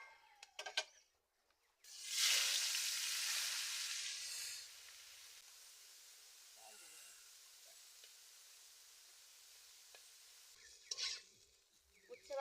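Bitter gourd slices coated in salt and turmeric hit hot oil in a wok with a loud burst of sizzling that settles into a faint, steady fry, with brief talk and clatter at the start and end.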